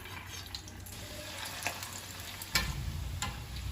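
Kofta balls frying in hot oil over a medium flame, a steady close sizzle with soft scraping stir sounds and a louder burst near the end, no voices.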